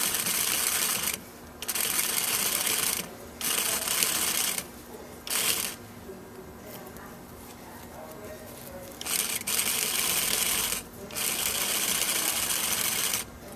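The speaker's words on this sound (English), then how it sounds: "I'll stitch right on those stitches" A sewing machine stitches in the ditch along a waistband in several bursts, its fast rattling hum starting and stopping repeatedly with short pauses in between, close and fairly loud.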